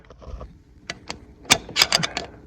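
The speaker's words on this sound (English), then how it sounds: "Take the screwdriver and just turn it back, click." A screwdriver turns the governor adjustment screw on a Cummins P pump fitted to a 24-valve Cummins, giving a handful of sharp, close mechanical clicks in an irregular rhythm, some bunched together.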